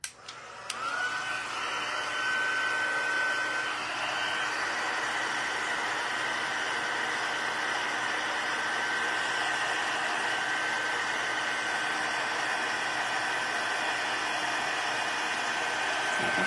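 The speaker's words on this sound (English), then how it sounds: "the heat tool gets hotter than a blow dryer" An embossing heat tool blows hot air to melt embossing powder into a metallic finish on a card, a steady airy whir like a hair dryer that holds at a moderate level throughout.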